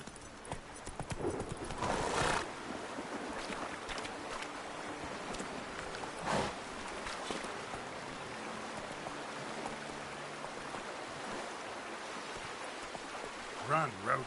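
A horse gallops in The Witcher 3 with a continuous rapid clip-clop of hooves. It stays close and steady, with a brief whinny and ambient rain or stream sounds underneath.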